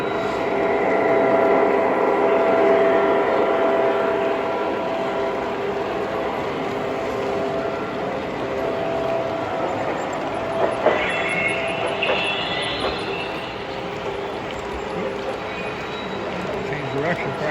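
A model railroad train runs on a modular club layout with a steady rumbling roll of wheels on track, plus a brief squeal and clicks near the end, close and fairly loud.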